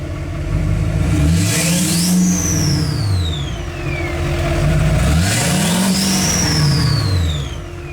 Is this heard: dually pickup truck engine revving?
yes